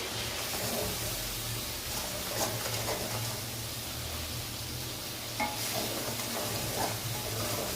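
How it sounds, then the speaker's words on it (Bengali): A spice paste with tomato, salt and turmeric powder sizzles steadily in a pan, with occasional soft stirring scrapes over a constant frying hiss, close by and without speech. "এর মধ্যে নুন, হলুদ গুঁড়ো দিয়ে আমরা মশলাটাকে কষিয়ে নেব।"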